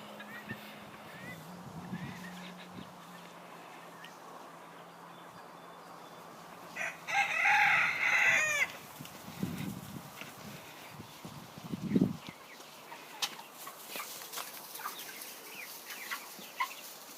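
Backyard chickens cluck softly, including a favorite hen breed kept as a pair, with a brief louder burst of fowl calls midway and a single sharp squawk later over quiet outdoor ambience.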